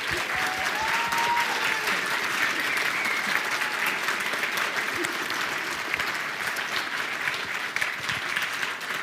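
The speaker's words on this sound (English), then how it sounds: "please help me by giving them an even bigger warm round of applause" A conference audience gives a big, warm round of applause for the organizing team at Konsoll 2022, a dense, even roar of clapping held at steady loudness throughout.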